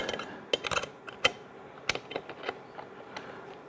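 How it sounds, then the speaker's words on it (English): Metal wrenches tightening a fastener on a lawn mower, a series of sharp clicks and ratcheting clinks in quick irregular bursts, close and fairly quiet, with no talking. "so we got the second wrench under here, this one on top, and give it a nice good tightening"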